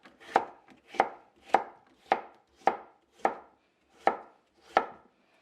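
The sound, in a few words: knife slicing vegetables for Jamaican pickled peppers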